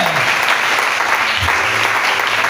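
A church congregation applauds loudly and continuously, with dense steady clapping from many hands filling the room.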